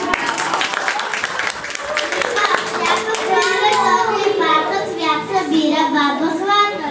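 A first-grade class applauds at a school letters celebration in Plovdiv: a burst of dense clapping in the first few seconds, then children's voices and chanting take over, with scattered claps beneath.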